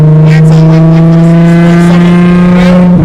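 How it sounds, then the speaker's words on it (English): Loud, steady Nissan 350Z engine drone with a deep exhaust note, faint crackles and pops scattered on top, very close, with a voice mixed in. "it's like starting to fucking hear the pops"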